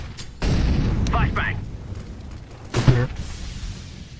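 A heavy whoomp bursts into a sustained roaring rush as an incendiary grenade ignites and burns in a tactical shooter video game, loud and near, with a voice callout breaking in over the fire.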